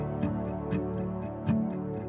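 A sustained synth brass chord holds steady, with soft ticking percussion hits at a regular beat running underneath.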